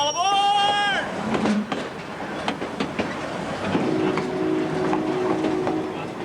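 Train wheels clack rhythmically over rail joints in a repeating pattern, opening with a brief horn-like tone and a low rolling rumble throughout.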